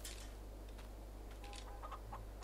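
Chickens in the farming video game Landwirtschafts-Simulator 22 cluck in short scattered calls over a steady low hum, moderately near and fairly quiet.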